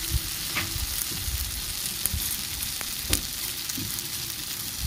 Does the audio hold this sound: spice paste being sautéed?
yes